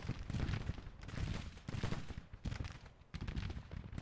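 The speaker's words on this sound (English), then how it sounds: "See, firing all along the line." Rifle fire crackles along the line of a Civil War-era battle in the Grand Tactician strategy game, a ragged series of close and distant volleys and shots in uneven bursts.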